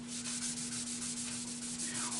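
A soft, steady rubbing sound of sanding sealer being applied to wood on a stopped lathe, with a constant low hum underneath; no talking.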